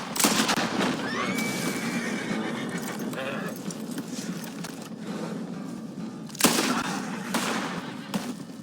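A horse whinnies over a busy soundscape in the video game Red Dead Redemption 2, followed by sharp gunshot bursts near the end.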